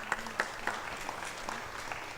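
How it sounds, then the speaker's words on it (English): A short round of applause at an East African employability summit and career awards: a few sparse, distinct claps from a small crowd in a hall, brief and moderately faint. "I want us to give them a round of applause as they come up."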